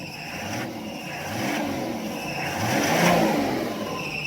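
A repaired bus engine, previously wrecked in a crash, starts up and revs. It swells in a few rising surges over a steady running drone, with no talk.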